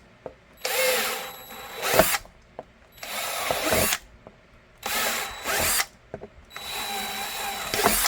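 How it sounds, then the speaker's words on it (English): Power drill boring a 1/4-inch hole while building a holster for a Ruger 5.7 pistol, running in four bursts of roughly a second each with short quiet gaps between, close and loud with no talking. "letting the drill do the work"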